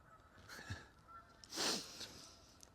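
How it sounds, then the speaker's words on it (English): A flock of geese honks faintly in the distance outdoors, giving a few scattered calls with one louder honk in the middle over quiet background hiss. "can you hear all the geese?"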